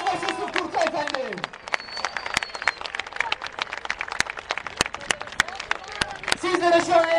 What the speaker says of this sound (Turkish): Alkışlar yüzbaşı Sıfkurt'a efendim